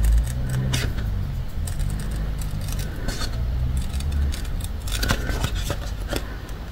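Scissors cut steadily through faux leather at close range, a continuous rasping snip with faint scraping and rustling, no voices over it.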